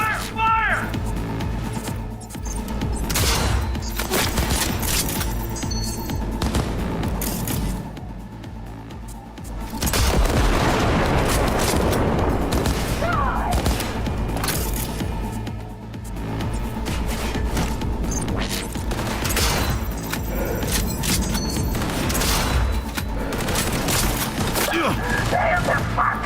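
Gunfire in Cyberpunk 2077 during a chaotic firefight, with dense bursts of shots and heavy impacts over a constant rumbling backdrop, mixed with excited shouting voices throughout.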